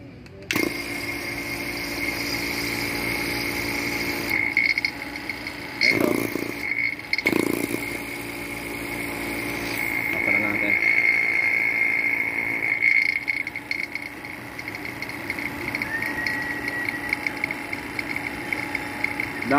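A repaired vacuum pump motor runs steadily after being restored, giving a continuous close hum with a sustained whine and a few brief clunks and shifts in tone, with no talk over it.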